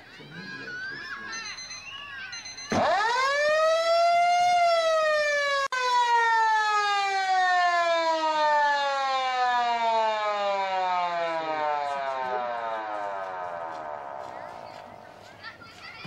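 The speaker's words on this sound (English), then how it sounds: "Bloody sirens." At an under-12 girls' football match, a loud siren winds up sharply, then holds a long wail that slowly sinks in pitch, after a few seconds of faint crowd noise.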